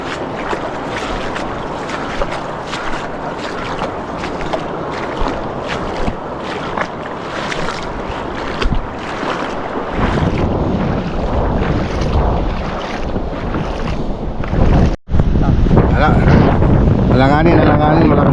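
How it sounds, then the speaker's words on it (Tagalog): Heavy wind and rough waves at sea off Badoc, Ilocos Norte during a typhoon, a loud, continuous roar of wind buffeting the microphone over churning water, with a person talking partway through. "Alanganin, malakas yung alon mga boss."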